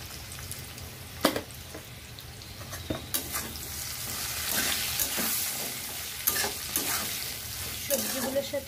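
Vegetables with turmeric and salt stir-fried for a fish and taro curry, a steady close sizzle broken by repeated scraping strokes of a spatula across the pan, with no talking.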